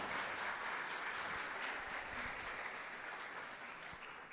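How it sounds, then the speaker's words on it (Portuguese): A church congregation applauds in a steady, fairly distant wash of clapping that holds throughout and eases slightly toward the end. "Vamos aplaudir ao Senhor"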